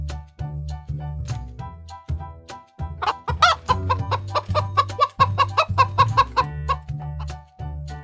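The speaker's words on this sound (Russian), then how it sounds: "Курица." Cartoon hen clucking in a series of short, rhythmic calls over a light musical backing, with no voices.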